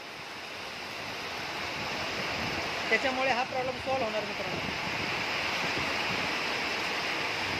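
Heavy rainwater rushing out through an outlet lowered to a bottom level, a continuous loud watery roar that persists under someone talking briefly in the middle.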